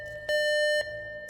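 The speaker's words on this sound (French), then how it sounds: "et... alarme incendie." A fire alarm in the video game Minecraft sounds a steady electronic tone, with one louder, sustained blast in the middle.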